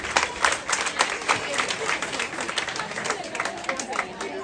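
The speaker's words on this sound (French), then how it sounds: "notre cher papa Olefemi Manga, que je vous demande d'ailleurs d'applaudir très fort." Audience applauding loudly at a private school's student government ceremony in honour of a parents' association member, dense steady clapping throughout with crowd noise mixed in.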